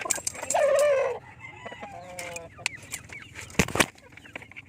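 Chickens cluck and squawk close by near a nest, with one loud drawn-out squawk early on, followed by scattered shorter clucks and a sharp burst of flapping or scuffling near the end.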